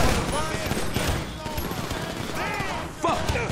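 Sustained bursts of gunfire rattle through a shootout in GTA 5, with grenades mentioned, the shots loud and dense throughout while voices shout over the firing.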